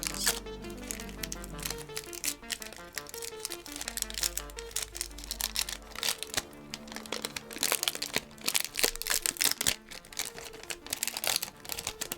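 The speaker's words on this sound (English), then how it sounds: "Let's just take a moment to appreciate this foil packaging before we rip it open." Crinkling and tearing of a foil Magic: The Gathering booster pack as it is ripped open, a dense run of close, crisp crackles over a steady low musical bed, with no talking.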